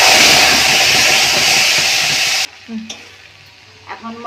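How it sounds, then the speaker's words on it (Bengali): Spices fry with a bay leaf in oil previously used for frying fish, giving a loud, dense sizzle for about two and a half seconds that cuts off abruptly, followed by a few quiet clinks. "এখন মশলাটা দিয়ে একটু কষবো।"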